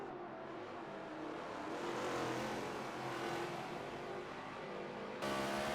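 Race cars competing at Long Beach late in a championship race, engines roaring loudly and continuously with rising and falling revs as cars pass close by, with no talking.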